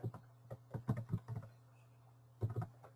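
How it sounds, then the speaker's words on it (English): Rapid bursts of typing on a computer keyboard, clustered keystrokes with a pause before a final short flurry, close and fairly quiet over a steady low hum. "I'm typing this out to you as I'm going"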